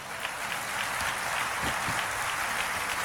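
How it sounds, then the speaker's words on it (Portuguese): Church congregation at a Brazilian Portuguese service clapping together, a steady dense wash of applause that holds evenly throughout at moderate volume. "Você pode aplaudir a Deus por isto?"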